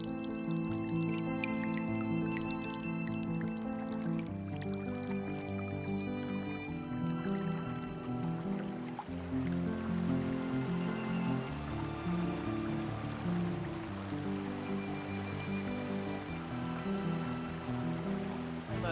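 A waterfall in Triglav National Park, Slovenia, gives a steady broad rush of falling water that grows fuller partway through, with a tonal music-like layer running over it throughout.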